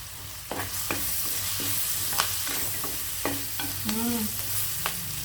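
Curry leaves frying in hot oil for mint rice, a steady close sizzle broken by scraping stir strokes and small clinks, with faint tonal hum underneath.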